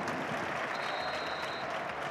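A big stadium crowd at a J1 League football match at Todoroki roars and applauds in one continuous, loud, dense wash of noise, with no gaps and no clear voices.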